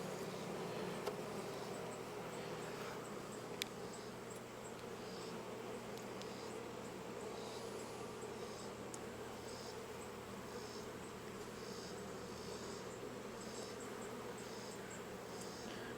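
Honeybees in a newly purchased hive, opened for inspection after smoking, make a steady, dense hum that holds evenly throughout, with faint higher buzzing passes close by.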